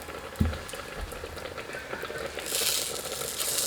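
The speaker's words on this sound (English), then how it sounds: "I'm just going to let that cook up a little bit" Food sizzles and bubbles in a pan while Indian dishes are cooked at home, a steady close hiss that swells louder after a couple of clunks of the pan.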